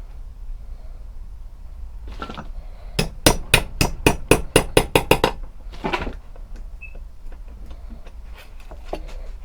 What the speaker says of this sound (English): just hammer those sides flat